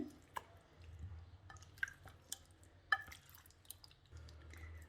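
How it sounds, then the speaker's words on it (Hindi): One kilogram of raw chicken being mixed by hand with a black pepper marinade, soft wet squishing and dripping with occasional sharp slaps and clicks, quiet and close. "इसमें ऐड करेंगे हम चिकन 1 kg है ये। इसको अच्छे से मिक्स कर लेंगे।"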